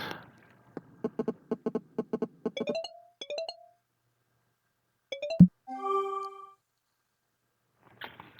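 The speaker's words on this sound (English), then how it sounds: "There is a ringing tone. I just used a synthesizer and just put in some notes." A synthesized car phone ringtone: a rapid series of short beeping tones, a few rising chimes, then a sustained bright chord, alone in silence.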